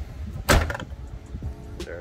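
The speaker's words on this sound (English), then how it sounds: "Close the door." A door on a Toyota AE92 is shut with a single solid thump, close and fairly loud, followed by faint clicks and low rumble in a quiet space.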